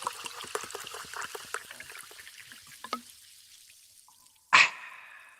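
A pouring sound effect of a drink being poured, with fast trickling drips and liquid splashes that thin out, then one loud bright ringing clink near the end.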